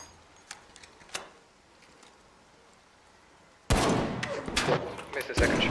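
Gunfire in the video game ARC Raiders: one sharp distant shot early on, then a burst of loud overlapping shots and impacts near the end, heard over a quiet game background.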